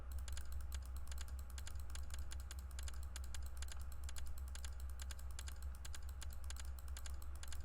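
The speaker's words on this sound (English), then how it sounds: "do tell me if the incessant clicking sound, by the way, is annoying to you" Rapid, incessant mouse and keyboard clicking from someone playing a computer strategy game, sharp clicks repeating steadily over a low constant hum, close and fairly quiet, with no voices.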